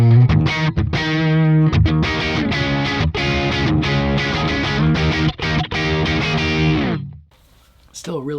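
An electric guitar plays a distorted lead line through a Kemper amp profile for about seven seconds, with delay and reverb switched off. It sounds loud and close, then cuts to near silence.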